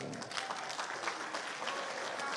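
Scattered clapping from an audience, fairly quiet and a little distant, with brief bursts of hand claps over a low murmur.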